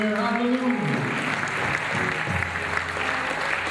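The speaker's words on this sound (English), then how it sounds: "Come on and give God a hand clap of praise." Congregation in a church service clapping in praise, a dense, steady wash of hand claps filling the whole stretch, with voices and a low musical tone underneath.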